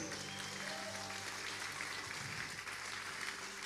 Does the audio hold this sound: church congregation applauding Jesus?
yes